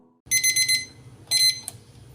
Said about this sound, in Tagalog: Okay na ang ating timer.